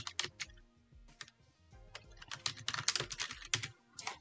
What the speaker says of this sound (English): The next thing I'm going to do is just type Microsoft Word.